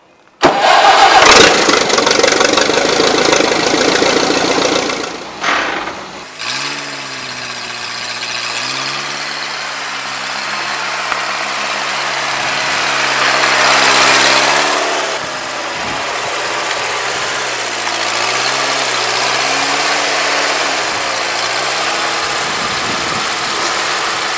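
A Massey Harris 30 tractor with a small Continental engine cranks briefly and catches, then settles into a steady, loud, slightly uneven idle that rises and falls in speed, with no talking.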